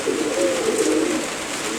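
Pigeons coo at a pigeon seller's place in Cilacap, a close, loud burst of soft throaty cooing from several birds, rolling on without pause with no talk over it.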